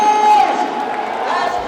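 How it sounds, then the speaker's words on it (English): A crowd cheers and whoops excitedly while liter-class superbikes line up at the start of a JK Tyre Racing Championship race, with one sustained shout rising above a dense, steady roar. "seeing the liter class rockets line up at the start had the crowd going crazy"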